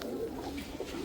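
Punjabi pigeons coo softly nearby in a brief, low, burbling call with no voices over it.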